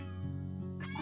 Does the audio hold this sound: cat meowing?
yes